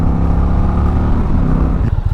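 A 2025 Indian Chieftain bagger with a PowerPlus engine accelerates hard in a short, loud, steady engine roar that drops slightly at the end, with no talk.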